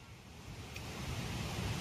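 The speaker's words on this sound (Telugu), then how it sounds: "ఫుల్గా ఉంది ఫ్లోటింగ్ వాటర్." Water flowing strongly along the Gundlakamma river, a steady broadband rush that grows slightly louder over a couple of seconds, with no voices.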